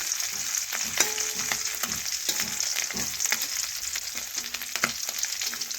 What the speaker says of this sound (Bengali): আবারও দেখুন আমি তেলের মধ্যে এইভাবে দিয়ে দিচ্ছি, তাহলে ও দুটো মাছ ভাজা হয়ে যাবে